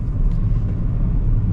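A car with power steering drives along, its engine and road noise forming a steady, loud low rumble from inside the cabin with no talking.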